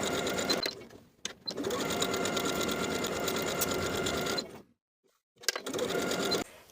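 A sewing machine stitches a collar seam on a plaid wool jacket, running in steady close bursts that are broken by a brief pause and a longer stop before the stitching starts again.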